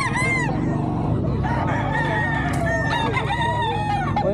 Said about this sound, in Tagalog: Grabe, daming manok dito.